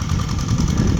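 A tractor engine running loudly up close in a rice paddy during rice planting, a continuous low throbbing rumble.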